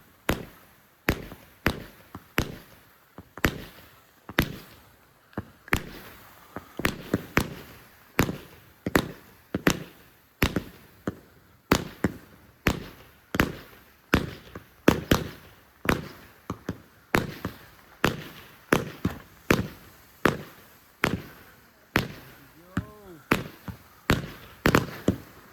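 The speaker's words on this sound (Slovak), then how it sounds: "Bezzvukový kompakt." A low-noise compact fireworks cake fires a long, steady series of sharp, muffled pops at a fairly even rhythm, with a faint whistling near the end and no talk over it.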